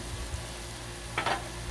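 Hot sausage with onion frying on a Blackstone griddle gives a soft, continuous sizzle, with a brief louder scrape or spatter partway through.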